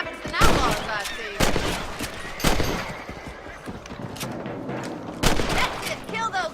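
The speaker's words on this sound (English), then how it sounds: "You're better at shooting rabbits than outlaws, I see." Gunshots from the video game Red Dead Redemption as rabbits are shot in the open country, several sharp loud cracks spaced irregularly, with a horse whinnying and hooves clip-clopping in between.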